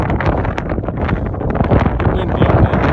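Steady, blustery wind buffets the microphone with low rumbling gusts on an exposed ridgeway while cycling, loud and continuous throughout, with faint rustling underneath.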